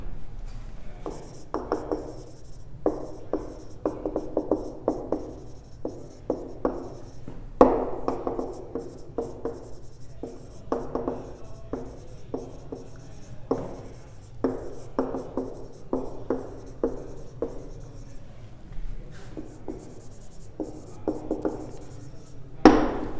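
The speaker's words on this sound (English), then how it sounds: "Let's write down the definition." Pen or marker strokes write out a maths definition on a board or paper: a steady run of short scratchy strokes with brief pauses, close and fairly quiet, no talking.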